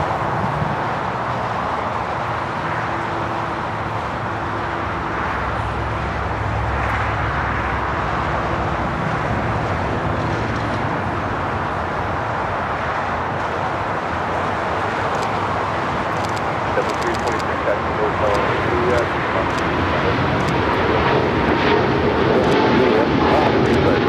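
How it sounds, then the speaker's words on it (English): A Viva Air Boeing 777-300ER in Sanrio Characters livery takes off from LAX bound for Taipei, its engines a loud, steady, broad roar that swells slightly toward the end, with faint voices underneath. "Viva Air Flight 5 taking off to Taipei on the 777-300ER."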